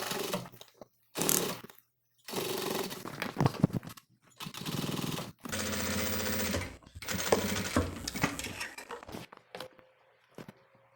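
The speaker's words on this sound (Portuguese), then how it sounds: "Eu vou passar uma costura aqui para segurar o meu zíper." Sewing machine running in bursts of steady stitching as it sews a seam to hold a zipper on a large travel cosmetic case, each run stopping and starting again several times, close and loud with no talk.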